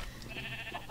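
Sheep bleating in the Minecraft video game, a single short, faint call heard alone.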